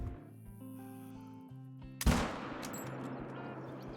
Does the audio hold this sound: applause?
no